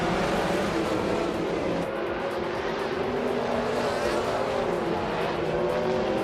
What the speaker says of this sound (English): Nadezero Exter is driving a vintage Dodge Dart from 1968.